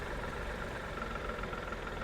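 A Tata Punch compact SUV's Revotron 1.2 litre petrol engine idles, heard from outside the car as a steady, even mechanical hum with a low rumble and no talking.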